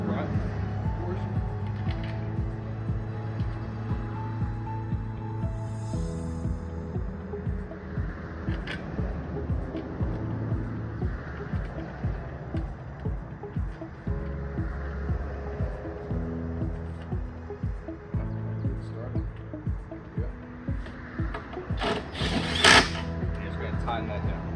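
A socket wrench tightens nuts and washers on an Adirondack chair, with repeated ratcheting clicks in short rhythmic bursts close by, and a person speaking at times in between.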